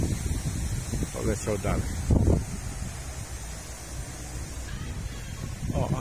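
Strong wind buffets the microphone outdoors, a rough, gusty rumble with rustling that rises and falls throughout while someone speaks briefly over it.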